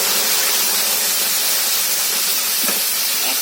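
Cooked sambar vegetables tipped into a hot pan give off a loud, continuous sizzling hiss, close and steady for the whole stretch, with no one talking.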